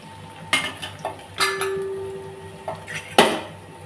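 Chopped onion and green chili dropped into hot oil in a kadai for a traditional egg curry, a low sizzle broken by several sharp metallic clanks and scrapes of a spoon against the pan.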